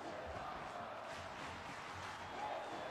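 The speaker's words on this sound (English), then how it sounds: "The fans are sounding really great out there tonight." A virtual crowd at a Second Life wrestling event cheers in a steady, even wash of massed voices, moderately loud and continuous with no breaks.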